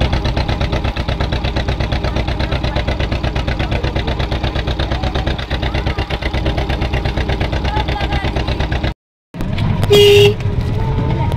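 A boat engine drives a boat toward Mousuni Island, throbbing loud and steady with a rapid, even pulse. It cuts out briefly near the end, then resumes with a short tonal note.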